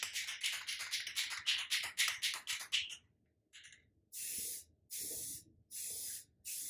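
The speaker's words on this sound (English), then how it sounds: "I spray in a sweeping curve" A spray can sprays paint onto a model Ecto-1 car in sweeping passes, with a rapid run of short hissing bursts followed by several longer, steady hisses separated by brief pauses, close and clear.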